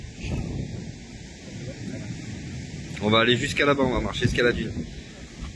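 Wind gusts across an open surf beach in southern Spain near a sand dune, buffeting the microphone with a constant low rumble while someone talks over it partway through.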